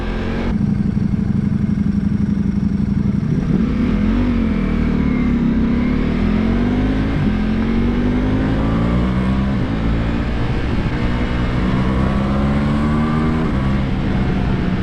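A Ducati Multistrada motorcycle engine idling roughly and then revving up and down repeatedly, loud and close, with a continuous throaty rumble throughout.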